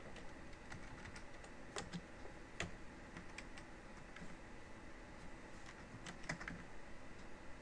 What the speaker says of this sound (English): I type in a new one.